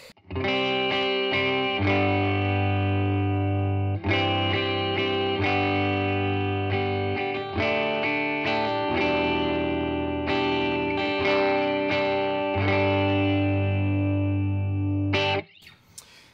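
Sustained distorted electric guitar chords through an EQ pedal ring out, strummed in long held phrases with trimmed low end and a mid-forward tone, loud and close.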